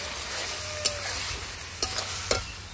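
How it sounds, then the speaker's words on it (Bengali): Taro leaves cooking in a pot over an outdoor stove fired with dry leaves give a steady sizzling, crackling hiss, broken by a few sharp stirring knocks near the close. "এখানে দেখো এই যে কচুর শাকটা রান্না হচ্ছে"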